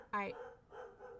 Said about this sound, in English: sorry about my my dogs there.